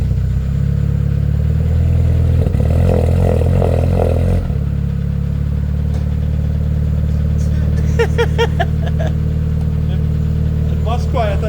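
A front-wheel-drive Lancer with a turbocharged 4G15T engine and an Evo 7 three-inch exhaust starts up, settling into a steady, fairly quiet idle with a brief burst of clatter near the start and some short noises toward the end.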